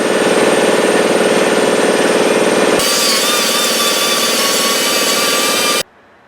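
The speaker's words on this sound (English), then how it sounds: "mounted on our die grinder here, and we are going to clean up this surface here where the hub mounts to the rotor" A die grinder cleans gunk and corrosion from the hub mounting surface of a rotor on a Mercedes W123, a loud, close, rattling high whine that changes pitch midway and then cuts off abruptly near the end.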